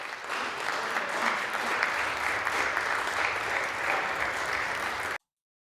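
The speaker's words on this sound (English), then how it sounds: "Getting a rousing round of applause from the 13 people in the" Steady applause from a small group of about 13 people in a room, an even patter of clapping for about five seconds before it cuts off abruptly.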